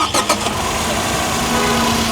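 Tata Tiago XT car with a BS6 phase 2 engine starting: a brief cranking burst up front that settles straight into a loud, steady idle hum.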